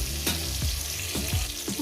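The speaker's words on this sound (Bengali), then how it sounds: "ভালো লাগছে এই ভাজার মধ্যে টমেটোটা ভাজতে ভাজতে" Tomatoes fry in oil in a home kitchen with a steady close sizzle, broken by a few soft utensil stirs at regular intervals; no voices.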